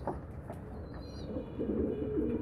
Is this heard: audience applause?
no